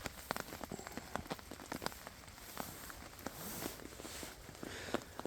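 Steady rain pattering onto surfaces at a hammock campsite, a continuous soft hiss broken by frequent sharp, close drips landing at irregular intervals, with no voices.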